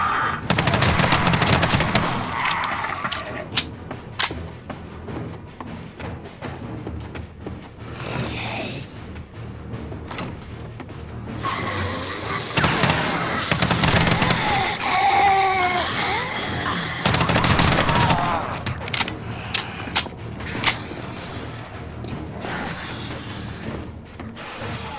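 Gunfire from the 7 Days To Die video game comes as loud, close bursts of rapid shots and single cracks that recur over about half a minute, with mechanical clicks between volleys and brief voices in places.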